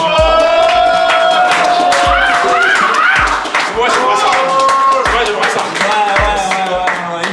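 A studio audience at a rap contenders quiz show claps and cheers loudly for Imo The Venom, with whoops and voices mixed into the steady applause.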